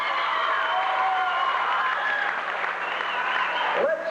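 A home basketball crowd gives sustained applause for the seniors at their final game, a steady wash of clapping with faint cheers that holds level for the whole stretch before tapering slightly at the end.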